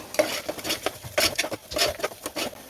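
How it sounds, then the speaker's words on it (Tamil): Spices and salt are sautéed for beef gravy, a spoon stirring briskly in a pan with quick, close scraping strokes over a faint sizzle, in a busy irregular rhythm. "இப்போ எல்லாத்தையும் சேர்த்து நல்லா வதக்கி விட்டுடுவோம்"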